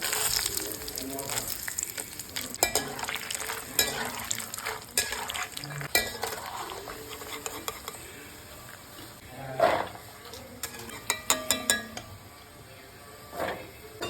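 Green chillies and curry leaves crackle and sizzle in hot oil, with scattered clinks and scrapes of a spoon against the pan throughout.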